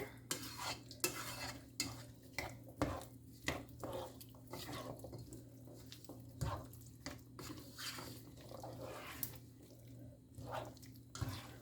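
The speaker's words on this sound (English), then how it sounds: "Just gonna mix everything together." A spoon stirs stew ingredients seasoned with cayenne pepper in a pot, making repeated wet scraping and clinking strokes in an irregular rhythm over a low steady hum.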